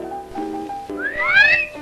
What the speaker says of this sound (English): The hot dogs at our concession stand do rate an appreciative whistle.